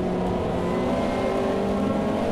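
A race car engine in a racing video game drones steadily and loudly through the Craner curves at Donington, holding a constant high whine while running close behind another car, with no talk over it.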